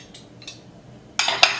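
Utensil clinking against a dish while stirring roasted vegetables dressed with oregano, salt and white balsamic cream, two faint scrapes followed by a louder pair of close clinks near the end.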